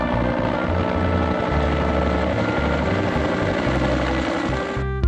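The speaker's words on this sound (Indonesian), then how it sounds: "Wow, helikopter polisi." A steady whirring rotor drone with a rhythmic chopping pulse continues throughout from a toy police helicopter running close by.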